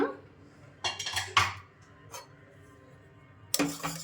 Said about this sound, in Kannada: ಕುಕ್ಕರ್ ತೆಗೆದು ನೋಡ್ಕೊಳ್ಳೋಣ